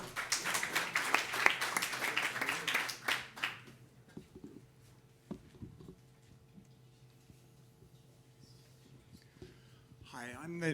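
Crowd applause at a startup pitch event during a Christmas party, a burst of close clapping for about three seconds that dies away into quiet room noise with scattered taps, before a voice begins at the end.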